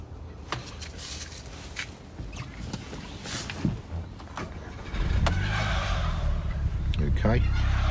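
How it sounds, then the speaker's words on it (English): A 2008 Audi TT 2.0 TFSI in Phantom Black starting up: a short crank and catch, then the engine settles into a steady, close idle rumble, with someone talking just before. "let's start the car"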